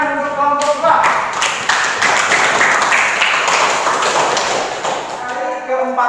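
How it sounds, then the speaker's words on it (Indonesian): Classroom of students applauding a student group during a lesson, a dense burst of clapping lasting several seconds, with a teacher's voice briefly before and after. "Beri tepuk tangan untuk kelompok 2."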